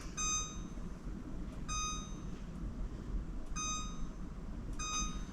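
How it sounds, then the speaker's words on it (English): Oven timer beeping in a home kitchen, repeated high-pitched electronic beep bursts in a regular rhythm, fairly quiet over low background noise. "I'll set the timer."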